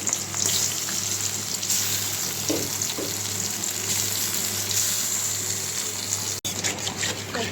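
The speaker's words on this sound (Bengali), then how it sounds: "এখন ভেজে নেব।" Tengra and koi fish rubbed with turmeric and salt fry in hot oil, giving a steady, dense sizzle with a hissing, watery texture that runs unbroken throughout, no voices present.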